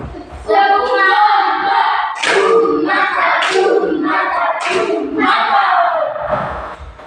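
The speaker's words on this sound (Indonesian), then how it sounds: "Tepuk mantap untuk kelompok 1 dulu." Classroom group of children doing a rhythmic patterned clap-and-shout cheer for a student group, loud and close, with vertical clap bursts at regular intervals under voiced chanting.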